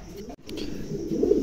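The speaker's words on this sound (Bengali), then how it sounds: "চমৎকার 2 জোড়া কবুতর" Pigeons from a pair being shown for sale coo softly in low, rolling murmurs that build slightly louder toward the end, with faint background noise and no clear talk.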